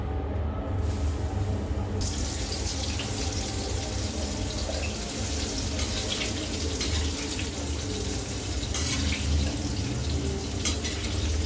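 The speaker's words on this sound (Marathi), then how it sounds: "आपण इथे कढईमध्ये तेल ठेवले मशरूम तळण्यासाठी" Mushrooms frying in hot oil in a wok for mushroom chili, a steady loud hiss and crackle that runs on without pause, close up and with no voices.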